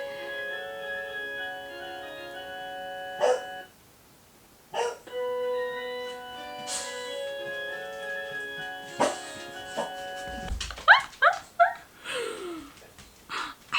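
An 11-year-old female boxer barks in several separate, sharp bursts, with a cluster of quicker barks near the end, over a steady tonal hum in the background.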